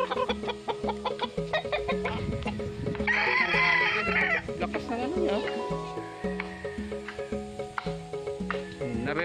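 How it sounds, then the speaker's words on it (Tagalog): A Texas fighting rooster crows loudly and repeatedly close by, with hen clucks, insect buzz and a voice mixed in. "Lakas ng tiktilaok niya."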